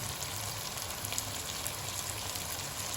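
Yogurt goes into a pan of frying tinda (round gourd), giving a steady, moderately loud sizzle and crackle that holds evenly throughout with no talking.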